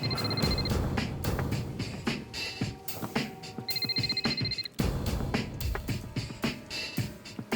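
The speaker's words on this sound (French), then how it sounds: "Dans le courant de l'après-midi, le téléphone de Paolo sonna." A telephone rings in a repeated electronic ringtone pattern of bright bursts, several rings in sequence over a busy dramatic music bed, with no talk.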